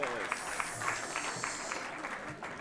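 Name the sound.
audience applause for the chairs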